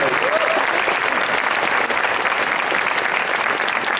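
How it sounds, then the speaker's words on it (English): A large event audience gives sustained, dense applause honoring a couple's 75th wedding anniversary, loud and continuous clapping from start to finish with a faint murmur of crowd underneath. "Let's give them a big round of applause."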